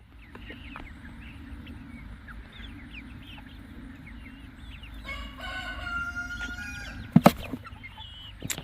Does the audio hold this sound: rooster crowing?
yes